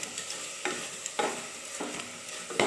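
Vegetables for veg biryani sauté in a hot pan with a continuous close sizzle. Soft scraping stirs come at a loose, regular pace, and no voices are heard.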